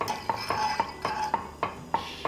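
A spoon stirs sugar and a pinch of salt into dashi in a pot, regular close metallic clinks against the pot's side roughly every quarter second over a soft swishing of liquid.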